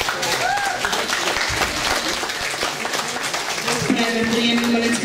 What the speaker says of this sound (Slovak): Takže poprosím potlesk